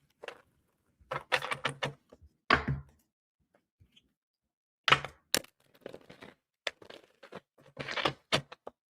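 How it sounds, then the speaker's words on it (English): A deck of tarot cards is shuffled by hand, giving bursts of crisp riffling and slapping card sounds in irregular clusters separated by short quiet gaps. "Let me get a good shuffle."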